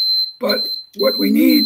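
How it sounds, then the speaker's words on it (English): A steady high-pitched electronic alarm tone beeps continuously under a man's speech in a lecture setting, cutting out briefly mid-sentence before sounding again. "that's my alarm going off."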